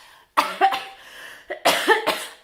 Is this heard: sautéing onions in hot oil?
no